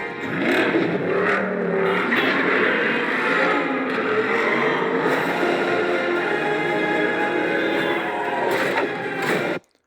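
Car engine during a driving section of the 007 First Light video game trailer, a steady loud revving whir with clattering layers that holds for nearly ten seconds, then cuts off abruptly at the end.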